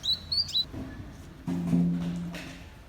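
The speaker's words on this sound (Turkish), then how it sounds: "Duyduğunuz gibi arkadaşlar kuşlar civil civil" Birds chirp in Belgrad Forest, a few short high tweets near the start, then low rumbling background sound takes over.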